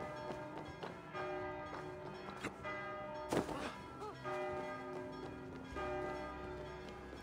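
Church bells ring in Assassin's Creed Valhalla, sustained tolling tones layered over steady game ambience with a sharp thud partway through.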